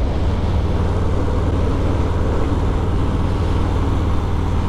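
A Harley-Davidson Fat Boy motorcycle cruising at 50 mph in fourth gear, a steady, dense low engine drone mixed with road and wind rumble, close and continuous without change.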